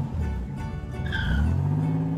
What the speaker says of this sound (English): You can start the car.